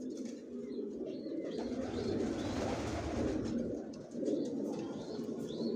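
Johnson racer pigeons coo in a loft, with low, throaty cooing rolling continuously at close range and faint chirps from other birds behind.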